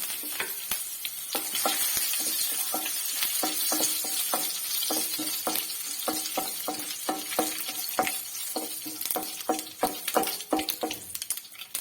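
Cut red chillies and curry leaves frying in hot oil, a steady loud sizzle with crackling pops and spitting throughout, close up and uninterrupted by any voice.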